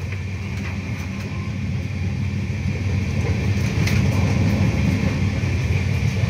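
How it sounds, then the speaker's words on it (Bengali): Rumble from inside a moving Rajdhani Express out of Howrah, with a steady low roar of wheels and carriage and faint rattles, continuous and close, no talk. "বন্ধুরা, এখন আমি রয়েছি রাজধানী এক্সপ্রেসে, যেটা হাওড়া থেকে ছাড়ে।"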